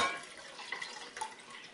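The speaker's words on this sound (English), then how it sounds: "Now you've got the splash." A short liquid splash and trickle, close by, like tea being poured into water, with a broad wet hiss and a couple of brief bursts.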